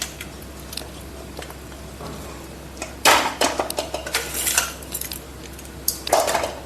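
A spoon scrapes and clinks against a dish while avalakki, flattened rice, is stirred together with cooled tempering. The scraping comes in uneven bursts, close and fairly loud, after a quiet start.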